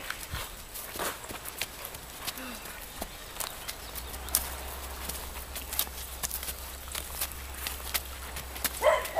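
A horse walks on a trail, its hooves clopping in an uneven rhythm close by, with some rustling and a low rumble in the background.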